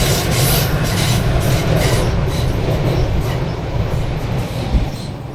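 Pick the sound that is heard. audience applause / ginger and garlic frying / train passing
train passing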